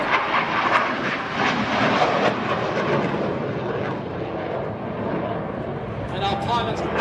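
A Harrier jet flying at an air show, a broad, steady roar of engine noise that stays loud and continuous throughout, with a voice talking over it.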